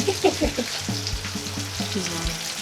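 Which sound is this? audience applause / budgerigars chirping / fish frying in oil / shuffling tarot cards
fish frying in oil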